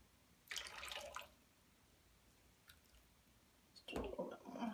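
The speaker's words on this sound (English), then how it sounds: "I'm going to pour off a little bit." Liquid soap mixture pouring off in two short wet splashing bursts, close and fairly quiet, with faint drips between them.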